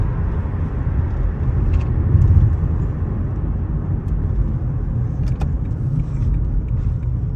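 Steady, loud car engine and road rumble heard from inside the moving vehicle, a constant low drone with faint clicks and rattles on top.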